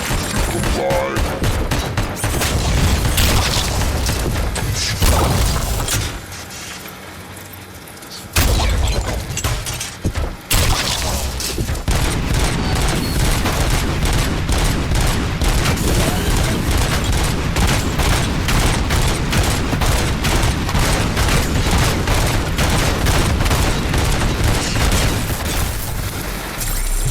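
Sustained, rapid gunfire fills a RoboCop: Rogue City firefight, dense bursts and booms running almost continuously at high volume, with a brief lull before the shooting resumes in fast, regular volleys.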